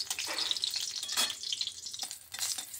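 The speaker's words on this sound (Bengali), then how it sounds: "ভালো করে লঙ্কাটা একটু ভেজে নিচ্ছি।" A whole dried red chili fries in hot oil in a kadai, giving a steady close crackling sizzle with occasional sharper pops throughout.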